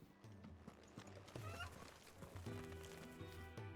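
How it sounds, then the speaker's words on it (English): A chicken in the video game Final Fantasy XVI gives soft repeated clucks among game ambience, with a faint voice-like sound at times. "An actual chicken."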